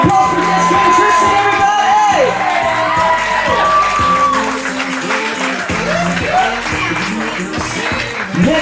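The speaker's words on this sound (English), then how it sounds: "Let's get a big round of applause for Jessica and Tristan" Wedding guests clap and cheer loudly for a newly introduced couple, sustained close applause with whoops and shouts, while an announcer talks over the crowd.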